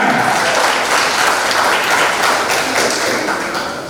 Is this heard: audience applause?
yes